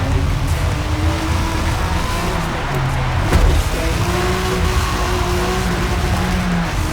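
A BMW M3 in the Forza Motorsport 2023 racing game, its engine droning steadily in a low gear over a constant dense rumble, with one brief louder burst midway and no talk.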